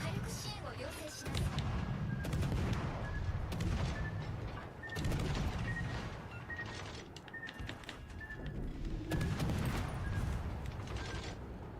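Warship main guns firing in World of Warships: Legends, several heavy booming salvos spaced a few seconds apart amid mechanical clatter and game noise, with voices speaking in between.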